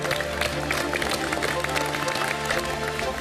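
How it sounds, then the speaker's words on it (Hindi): Hearty audience applause for Chef Saransh at a MasterChef India 2023 semi-final, a steady dense wash of clapping with crowd noise and studio music bed underneath, sustained throughout. "अब जोरदार तालियां शेफ सारांश के लिए"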